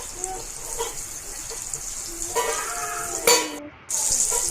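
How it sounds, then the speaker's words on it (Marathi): Chopped tomatoes sauté in hot oil for a village-style drumstick curry, giving a soft sizzling hiss with a few stirring scrapes and brief utensil clatter near the end. "आता हे टोमॅटो तेलात पूर्ण परतून घ्यायचं।"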